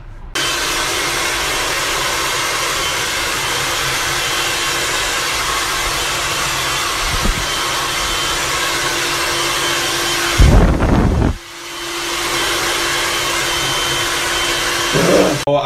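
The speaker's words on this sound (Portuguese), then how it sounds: "pra não ficar muito difícil pra secar com o secador." A hair dryer blows hair dry in one long, loud, steady roar close by. It cuts out briefly near the end, with a bump of handling noise, then starts up again.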